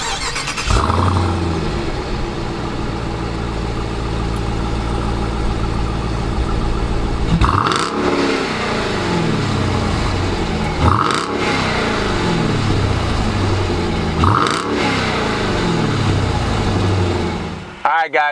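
A 2019 Jeep Grand Cherokee Trackhawk SUV fires up with a loud starter crank and roar, then settles into a deep idle broken by three sharp throttle blips, each rev surging and falling away, recorded close by.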